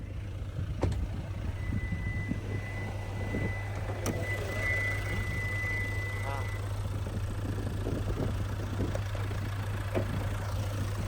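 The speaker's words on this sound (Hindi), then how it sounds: "ये है 2000 CC inline 4 cylinder common rail direct injection smart stream are D4HD diesel engine" Idling 2.0-litre inline four-cylinder common-rail diesel of a 2022 Hyundai Tucson, heard with the bonnet open as an even, low, steady hum. Someone talks over it throughout.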